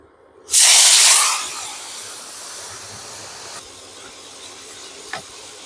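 Flour-coated marinated chicken wings dropped into hot oil, bursting into a loud sudden sizzling hiss that fades over a few seconds into a quieter steady frying crackle, with a small clink near the end.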